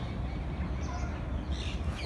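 Pigeons settled around a roundabout in Talkatora Garden, Delhi, give faint, scattered calls against a steady outdoor rumble, with no voices.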